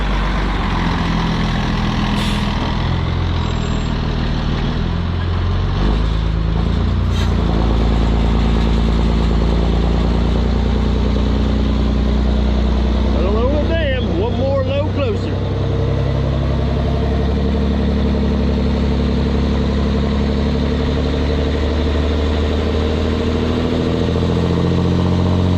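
A loaded dump truck rumbles in at a lakeside earthmoving site, its deep engine idling and growling close by, with a brief higher whine midway among steady heavy machinery drone.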